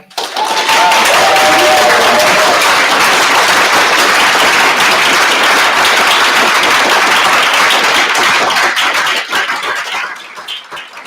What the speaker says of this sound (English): Good applause for Chantal, I approve.